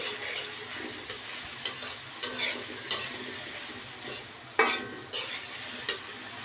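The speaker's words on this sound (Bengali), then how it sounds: "পেঁয়াজটা যাতে সুন্দরভাবে ভাজা হয় এই কারণে একটু লবণ দিয়ে দিচ্ছি" Sliced onion sizzles in a pan with a pinch of salt, steady frying hiss broken by sharp, irregular scrapes and clinks of a spatula stirring against the metal.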